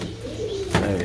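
Pigeons coo close by in a single short, soft burst of low rounded calls over a steady background hum.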